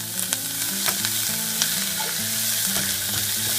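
A spoonful of butter sizzles and fries in a pan with browned ingredients for Saudi kabsah, a steady close crackle broken by a few clinks as the food is stirred.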